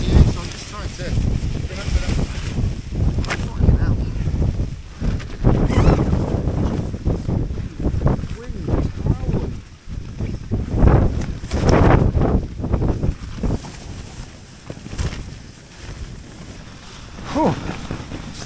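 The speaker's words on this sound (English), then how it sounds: "Wind picked up all of a sudden." Strong wind buffets a tent at a wild camp at Margery Stones, a steady loud roar with rising gusts and flapping fabric throughout, close to the microphone.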